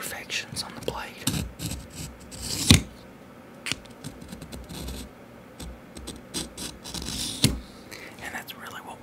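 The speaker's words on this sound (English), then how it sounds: "You can hear when the knife sharpener catches the imperfections on the blade." A V-shaped metal-plate knife sharpener scrapes along a knife blade in a series of short, crisp, scratchy strokes, close and fairly quiet, with soft whispering in between.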